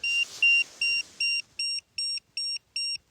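An electromagnetic field meter in Raincliffe Woods beeps rapidly and steadily, about eight evenly spaced high-pitched electronic tones in a quick regular rhythm, clear and alone, with a faint hiss early on.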